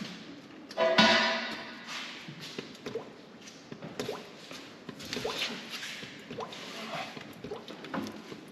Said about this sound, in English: Don't forget to pull the fill plug, that way it drains a little bit faster.